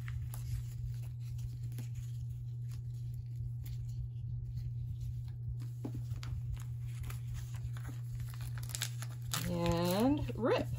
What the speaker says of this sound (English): there we go with the paper torn away from two sections